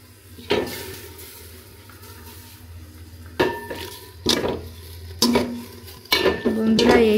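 Drumstick (sajna) leaves being stirred in a cooking pot with no oil, giving several loud metallic scrapes and clanks against the pot at irregular intervals over a low steady background hum.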